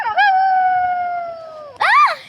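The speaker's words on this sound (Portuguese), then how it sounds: "Agora o lobo." A wolf howls, one long, loud, steady tone that sags slightly in pitch as it goes, then a sharp break and a second, rising howl cut short at the end.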